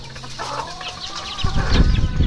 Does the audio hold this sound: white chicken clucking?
yes